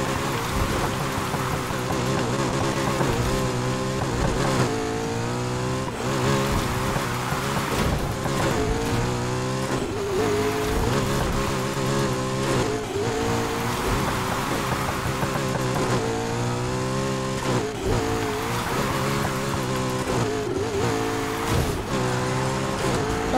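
A McLaren being drifted gives a loud continuous engine howl that rises and falls with repeated revving and gear changes, with tire squeal mixed in throughout.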